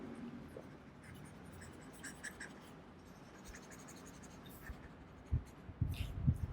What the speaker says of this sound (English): I have to erase this.